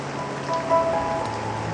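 Rain falls steadily on a street as a soft, even patter, faint and continuous with no voices present.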